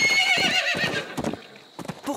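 A cartoon pony whinnies loudly with a bright, high neigh, followed by a few short bursts of hoofbeats and snorts, close and clear with no talking.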